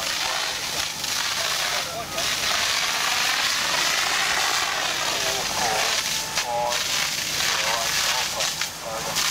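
A CAFS foam nozzle sprays wet foam in a loud, continuous broadband hiss and rush that fills the whole stretch, with voices occasionally heard beneath it outdoors.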